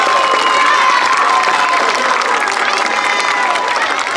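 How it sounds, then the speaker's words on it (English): Crowd at a school event cheers and applauds for 4th through 6th graders, a steady, loud wash of clapping and shouting voices filling the whole stretch. "Can we get one more huge round of applause for all their growth and achievement?"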